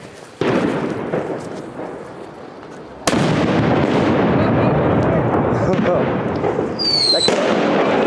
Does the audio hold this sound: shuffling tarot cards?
no